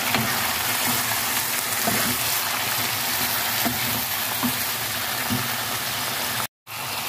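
Chicken liver frying in a pan while being stirred, a continuous dense sizzle with a few soft utensil knocks, close up and without talk, cutting to silence briefly near the end.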